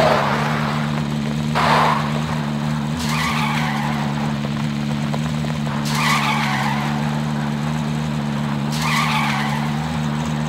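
A car in the video game Warzone drives with a steady engine hum underneath while tires skid and squeal in repeated bursts, loud and close.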